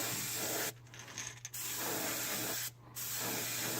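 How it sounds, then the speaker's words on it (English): An airbrush hisses in a steady spray painting a shad crankbait fishing lure, cutting off briefly twice before resuming, close and continuous with no talking. "where I'm actually spraying, I'm actually trying to go out here and letting the overspray hit it"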